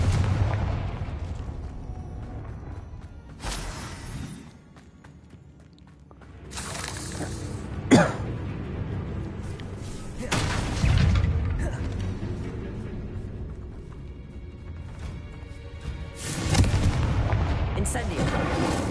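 Confringo explosion spells in Hogwarts Legacy go off as a series of loud, booming blasts with crackling tails, spaced irregularly through the fight and ringing against a rumbling battle backdrop.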